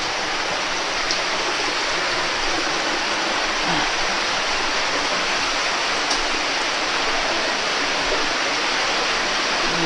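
A stream of water flows steadily and close by, a dense, continuous rush that runs unbroken throughout with no voices.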